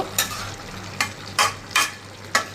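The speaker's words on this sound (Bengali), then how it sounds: "একটু নেড়ে চেড়ে নেব, হালকা হাতে উপর নিচ করে নেব।" Tengra fish frying in a pan is gently turned with a spatula: five quick scraping strokes, evenly spaced, cut through a low, steady sizzle close up.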